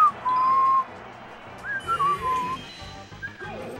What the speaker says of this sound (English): Don't whistle on stream. That is loud.